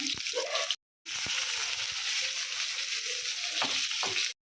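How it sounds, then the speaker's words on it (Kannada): Goat intestine dry-frying in hot oil with cloves, a loud, close, continuous sizzle broken by one short gap, with a few soft stirring knocks and no talking. "ಇದನ್ನು ಡ್ರೈ ಫ್ರೈ ಮಾಡ್ಕೊಳ್ಳೋಣ ಬನ್ನಿ."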